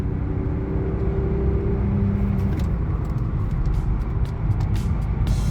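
A BMW with an S52 inline-six engine drives along, its steady drone and road rumble heard from inside the car, continuous and fairly loud with faint clicks higher up.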